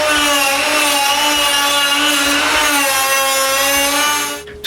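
Power tool cutting centre holes in a wooden garage door during workshop construction, a loud continuous whining grind with strong steady harmonics, close up and alone, cutting off abruptly at the end.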